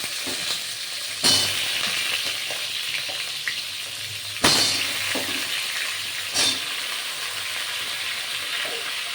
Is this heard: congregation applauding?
no